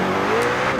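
McLaren 720S engine in a video game revving hard and accelerating, a loud continuous rising tone that fills a brief burst, with no voices.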